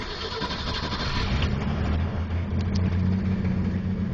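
A 1963 Ford Falcon engine, choke pulled fully out, cranks and catches into a rough, loud, steady idle close by with no talk.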